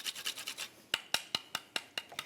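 Whole nutmeg rasped against a grater for a holiday side dish: about a dozen short, dry scraping strokes in a steady rhythm, close and clear with no talking.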